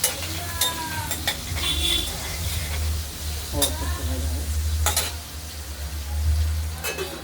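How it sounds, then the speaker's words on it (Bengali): Paneer and potato pieces with salt and turmeric fry in a pan, a loud continuous sizzle broken by scraping stirs and occasional spatula clinks against the metal. "তো ভাজা হতে থাকুক"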